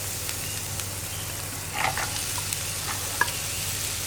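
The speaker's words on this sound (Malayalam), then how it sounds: "കോവയ്ക്ക ചേർത്ത് നന്നായിട്ടൊന്ന് ഇളക്കി മിക്സ് ചെയ്യാം" Ivy gourd being stir-fried in a pan for a Kerala mezhukkupuratti with okra, a steady soft sizzle broken by a few spatula scrapes and taps, no voices.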